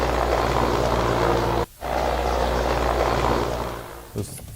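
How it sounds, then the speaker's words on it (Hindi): An Indian Air Force Mi-17 V5 twin-engine helicopter flies in bad weather, its steady loud rotor and engine roar filling the air, broken by a brief dropout before the droning resumes. "खराब मौसम की वजह से हेलीकॉप्टर क्रैश से पहले का ये वीडियो सामने आया है।"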